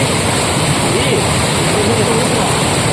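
A steady, loud rush of water falling at Kodiveri Dam falls fills the clip, a dense roar with no pauses.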